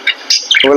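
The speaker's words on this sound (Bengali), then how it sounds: "একটা পাখির ডাক শুনে একটা পাখি কিভাবে" A caged pet bird kept at home gives a few quick, high chirping calls close by, and a voice briefly joins at the end.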